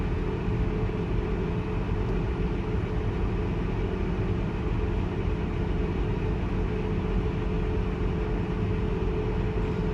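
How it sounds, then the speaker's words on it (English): Vehicle crawling slowly in first gear on light throttle, a steady low engine rumble and drone, constant and fairly loud with no talk. "I like to crawl around in first gear real slow like this with not a whole heck of a lot of throttle"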